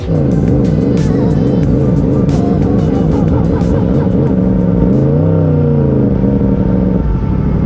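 A racing car engine at the Misano circuit roars loud and close, revving hard with rising and falling pitch through gear changes, then cuts off abruptly near the end.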